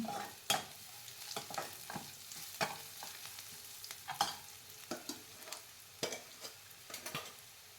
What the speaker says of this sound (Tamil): நல்லா வதக்கலாம் வெங்காயம்லாம்.